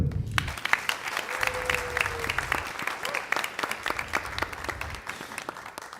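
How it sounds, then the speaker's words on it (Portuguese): Audience applause during a formal evening ceremony, steady and continuous across the whole stretch, moderately distant and dense, with no voices rising above it. "Mais uma salva de palmas, por favor."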